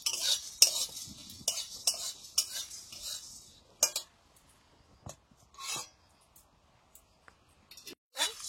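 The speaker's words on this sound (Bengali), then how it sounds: "মশলাগুলোর জন্য কড়াইটা নামিয়ে ভাজছি" Whole garam masala, black pepper and mace frying in a wok, with a spatula clinking and scraping in quick bursts for about four seconds, then only sparse light taps and faint sizzling.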